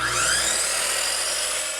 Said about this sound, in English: Then we make our cuts on the power miter saw